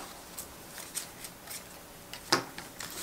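Scissors snip the end of a folded paper Halloween pumpkin craft, a few faint crisp cuts and rustles close up, one louder snip near the end.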